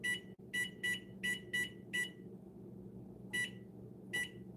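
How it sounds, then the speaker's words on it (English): An oven timer beeps sharply in a quiet kitchen: six quick evenly spaced beeps, a short pause, then two more, all over a low background hum. "I'm going to put the timer on 14 minutes"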